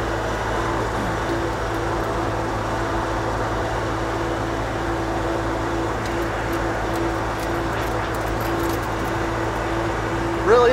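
A KYMRON XL50 wheeled skid steer engine running at three-quarter throttle, a steady droning hum with constant low tones, close and unchanging, with faint rattles toward the end.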